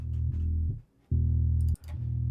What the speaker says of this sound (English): The bass guitar sounds like this